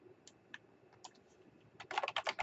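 Typing on a computer keyboard, a few scattered key clicks at first and then a quick dense burst of close, crisp keystrokes toward the end.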